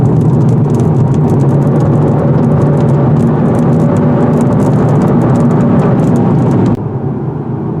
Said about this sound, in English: And why is it raining?